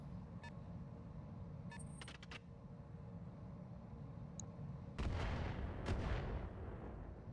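Swarm missiles fire in the Roguetech mech game as a cluster of sharp launch bursts, then a heavier rumbling volley of impacts, heard alone and fairly quiet.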